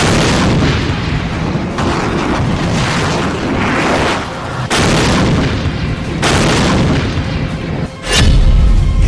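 HIMARS multiple rocket launcher fire in Kherson: a continuous loud, rumbling barrage of booms and blasts, with sharp bursts cutting in near the five-, six- and eight-second marks.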